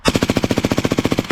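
Rapid automatic gunfire rattles in a steady burst of about eighteen close, loud shots at an even rhythm, with no talking over it.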